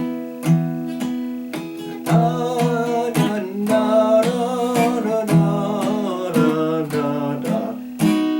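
Acoustic guitar strummed in a steady waltz pattern, a low bass note then two chord strokes per bar, repeating evenly and played close up.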